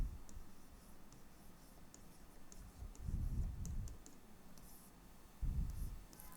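Pen writing a summary by hand on paper in a chemistry class, faint steady scratching with light ticks and a couple of louder scrapes, quiet and close.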